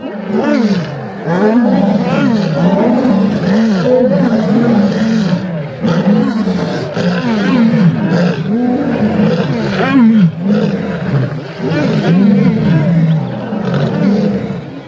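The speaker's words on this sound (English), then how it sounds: "Roaring serves to strengthen the bond within the group." Lions roar in repeated deep, throaty bouts, the grunting calls swelling and fading in a steady rhythm, loud and close, with no talking.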